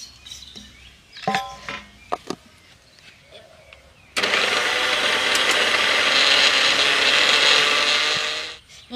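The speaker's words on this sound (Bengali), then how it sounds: "একবার মিক্সিতে ঘুরিয়ে নিলেই কিন্তু একদম মিহি দানা মানে গুঁড়ো হয়ে যাবে" An electric mixer grinder whirs loudly and steadily for about five seconds, grinding raw potato into powder, after a few clinks and knocks of the jar being handled.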